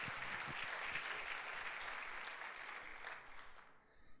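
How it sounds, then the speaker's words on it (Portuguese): A church congregation applauds after a pastor's call, a dense, steady wash of clapping from many hands that fades slightly toward the end, heard from some distance. "Quem recebe, dê um aplauso a Jesus."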